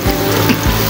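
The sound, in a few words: onion frying in a pan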